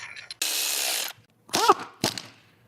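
Ratchet wrench snugging bolts on an imported car during replacement of a worn rubber part with a new Lemförder piece: a sustained buzzing ratchet run, then two short clicking bursts, close and alone.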